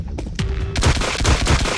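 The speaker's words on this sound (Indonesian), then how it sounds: "Kita akan tembakin terus." Rapid bursts of gunfire from shooting zombies in the pixel-art shooter game Pixel Combat, loud and close, a stuttering run of shots following an initial short report.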